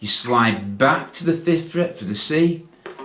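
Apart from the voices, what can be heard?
No distinct noise like a dog, phone or traffic.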